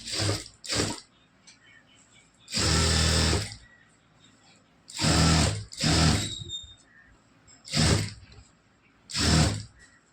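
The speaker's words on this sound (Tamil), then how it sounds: "இப்போ இந்த ஒரு சைடு தைச்சிட்டு இதை அப்படியே திருப்பி மறுபடியும் அப்படியே தைச்சிட்டு வரலாம்" A sewing machine stitches a blouse seam in short bursts, about seven separate runs of loud whirring rattle separated by quiet pauses, heard close and alone.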